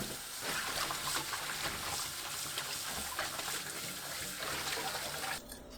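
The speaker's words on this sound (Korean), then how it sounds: "건져서 찬물에 3번 깨끗하게 씻어냅니다." Boiled butterbur stalks rinsed in cold water, a continuous splashing and trickling wash close by, steady throughout with a slight drop near the end.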